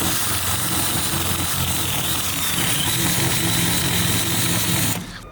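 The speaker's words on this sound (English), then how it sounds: "There's like a weird noise as I was grinding the rubber off the car" Grinder wheel grinding rubber off a Nissan K11 car body, a continuous loud abrasive whine that holds steady for several seconds and then stops abruptly at the end, close.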